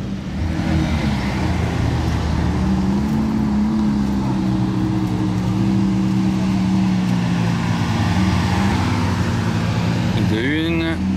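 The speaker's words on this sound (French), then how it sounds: "Oh, ça va être le défilé là devant toutes les voitures du rallye." Rally cars roll past in a parade through Monaco, with a continuous engine and road rumble swelling and fading as vehicles pass, and voices chattering over it.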